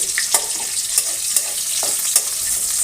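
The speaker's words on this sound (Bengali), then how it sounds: "একটু রসুনটা ভাজা ভাজা করে নেবে" Crushed garlic cloves frying in hot oil in a pan for a pumpkin-vine curry, a soft steady sizzle broken by a few sharp spoon taps and stirring clinks at irregular intervals.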